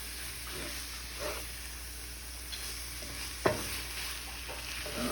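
Flour being stirred into a frying pan for a shepherd's pie, with a steady sizzle under scraping spoon strokes and one sharper knock on the pan, close by with no talk.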